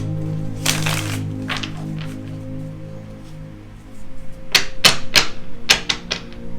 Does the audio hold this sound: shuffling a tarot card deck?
yes